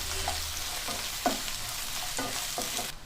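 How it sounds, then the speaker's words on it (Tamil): Onions sautéing in a pan for Tamil-style idli upma, giving a steady close sizzle with a few soft scrapes of stirring, alone without talk. "சேர்த்துட்டு வெங்காயம் வதக்கிக்கலாம்"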